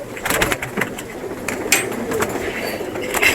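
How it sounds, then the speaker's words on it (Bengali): Female pigeons kept in a home loft coo softly and repeatedly at close range, their low murmuring calls overlapping with light rustling. "এগুলো সব মাদি কবুতর।"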